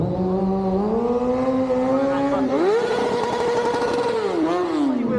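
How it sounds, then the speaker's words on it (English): A motorcycle at a Scottish bike show revs loud and close with the clutch pulled in during a stunt show, the engine pitch rising, holding, then climbing sharply before easing back, continuous and strong throughout. "I'll give it a little rev so you can see the clutch is in."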